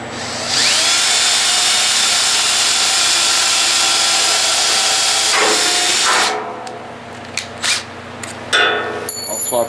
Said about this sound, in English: I'm just gonna pre-drill with a 3/16 bit